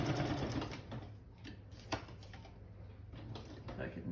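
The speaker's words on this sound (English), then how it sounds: "I'm running my sewing machine down" A domestic sewing machine stitching a straight seam along an inked crease on a handmade journal purse, running in a steady continuous whir with rapid needle ticks and a few sharper clicks, fairly close, with no talk over it.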